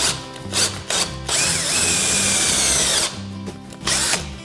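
An electric jigsaw cuts in loud bursts, starting and stopping in short pulses, then running steadily for a couple of seconds before more short stop-start spurts, with no talk.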